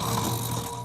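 A cartoon character voices an imitation of snoring while playing a big snore-saurus, a steady, close, loud rasping snore filling the short moment without other talk.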